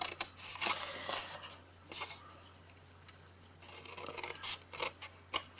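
Scissors snip through scored cardstock in several short bursts of crisp cuts, quiet and close, with pauses between runs of snipping and a faint low hum underneath.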